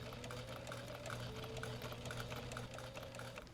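A sewing machine stitches around the perimeter of fabric for a replacement patio chair cushion, giving a steady, continuous mechanical whir at close range with no pauses and no talking.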